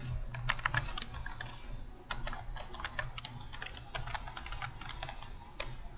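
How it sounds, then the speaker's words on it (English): Typing on a computer keyboard as a file name is entered, a steady run of close, crisp key clicks in quick bursts with short pauses, no voices. "So I'll type in my file name."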